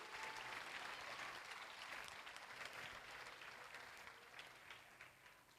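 An audience claps at a school Teachers Day celebration, a sustained round of applause that is dense at first and then gradually thins and fades, heard fairly faint and without speech.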